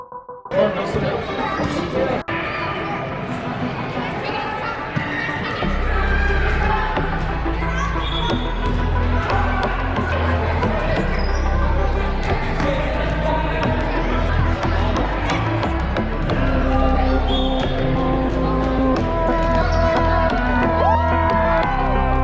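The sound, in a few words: crowd cheering and ball bouncing at a Boston basketball game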